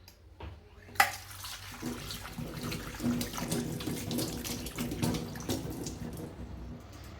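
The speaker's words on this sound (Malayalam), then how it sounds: "ഇനി ഇതിനെ നമുക്ക് കുറച്ച് വെള്ളത്തിൽ കഴുകിയെടുക്കാം" Cleaned squid rinsed under a running tap in a sink, a continuous splashing stream with irregular bursts where the water hits the pieces and hands, close and fairly quiet, with no speech.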